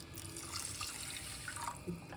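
Water running and splashing into a vessel, about 2.5 cups for rava kesari bath, a soft continuous pour with a few drips near the end.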